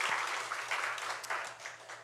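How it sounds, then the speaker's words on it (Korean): Steady, dense applause from a church congregation during a Sunday worship service, continuous hand clapping filling the whole stretch with no pauses. "우리 하나님께 영광의 박수 올려드리겠습니다"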